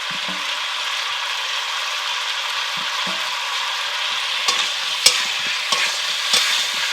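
Eggplant and chopped coriander are stirred into a koi fish curry in a pan, with continuous sizzling frying and scraping. Sharper spatula clacks against the pan grow more frequent toward the end.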